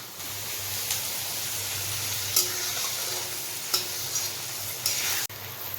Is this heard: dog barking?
no